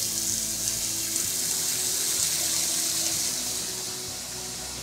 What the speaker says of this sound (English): I'm gonna turn on the faucet and